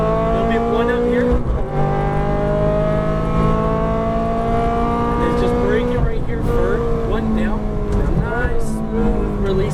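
An exotic sports car at full throttle on a Las Vegas race track, its engine roaring loud and steady with rising and shifting revs throughout, while a driving instructor talks over it.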